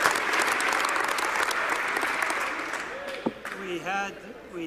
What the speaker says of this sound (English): I oppose Trudeau, so I am clapping uproariously.